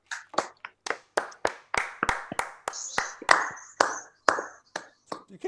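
A single person clapping close by on a talk show, about fifteen sharp, separate claps in a loose uneven rhythm, with a few brief voice sounds in between.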